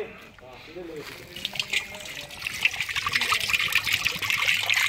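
Coconut water trickles and pours steadily, growing a little louder, with a brief voice at the start.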